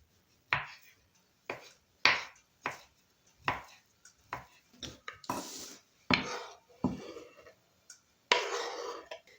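Close knife chops on a board cutting sausage into cubes, a series of crisp thuds at an uneven pace with a few scraping strokes between them.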